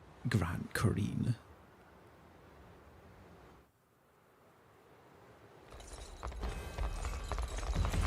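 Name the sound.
horse hooves clip-clopping in the Unicorn Overlord video game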